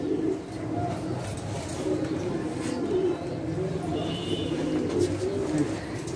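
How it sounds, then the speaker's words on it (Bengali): A pair of Dragon Homer pigeons coo in low, soft, rolling phrases repeated again and again, close by against a faint background murmur. "অনেক সুন্দর এক পেয়ার কবুতর"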